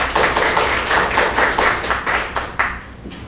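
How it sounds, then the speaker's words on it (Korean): Seminar audience applauding to welcome the next presenter at an endpoint security solutions event, a steady burst of many hands clapping throughout, fairly close and loud, with no talking. "큰 박수로 맞이해주시죠."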